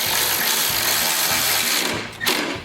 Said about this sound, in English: Now we can tighten those two screws down with the 3/8 socket